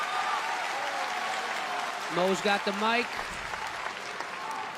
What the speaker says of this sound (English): Hey, everybody give a round of applause to the people that won and they're going to the semifinals.